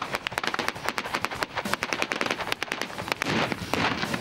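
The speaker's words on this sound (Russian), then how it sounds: "все это сопровождается шквалом огня из холостого оружия" Blank-firing weapons unleash a dense, continuous barrage of rapid shots and bursts during a military competition's simulated combat, loud and chaotic throughout with no pause.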